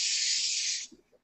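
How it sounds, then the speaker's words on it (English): Cooking spray is sprayed into a batter bowl while kolache dough is being prepared, a single loud close hiss lasting almost a second, then quiet light handling sounds. "And I like cooking spray. I like the convenience, so I use it."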